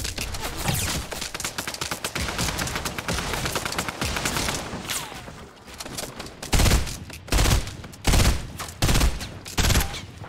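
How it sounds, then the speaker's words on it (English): Rapid continuous gunfire in Fortnite rattles close and loud, then breaks into heavy separate bursts with short gaps, the shots striking hard from a distance up on a mountain. "He's getting shot from on top of the mountain too."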